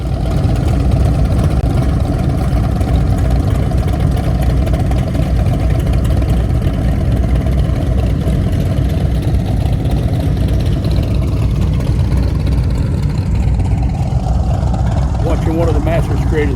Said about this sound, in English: he's going to crank them all up one at a time and listen to them run